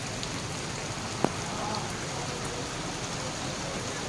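Heavy unseasonal downpour with water flooding the streets, a dense steady hiss of rain on surfaces, one brief sharp knock partway through, no talking.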